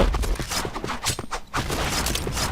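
Rapid bursts of gunfire in a multiplayer shooting game, dense and loud throughout, with a brief lull in the middle before the shots resume.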